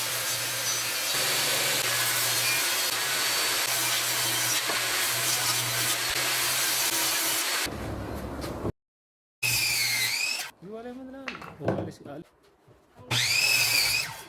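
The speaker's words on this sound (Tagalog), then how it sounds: "Gumamit nga pala kami ng table saw para sa mas pinaliit na cut ng aming gagamitin na plyboard." Table saw cutting plyboard, a steady loud whirring rasp for several seconds that drops away, followed by intermittent talk and lighter bursts of tool noise.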